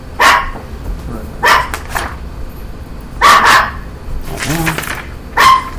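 A dog in a home with the windows open gives about five sharp, loud barks in uneven bursts, spread over several seconds against a steady background hum.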